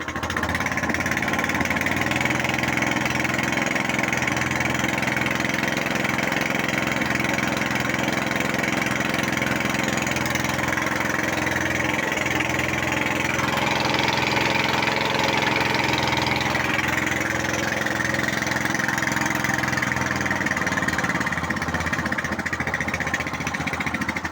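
A 3 kW, 916 rpm electric motor driving an induction generator runs steadily with a constant droning hum and mechanical whine, loud and unbroken throughout, with slight shifts in tone partway.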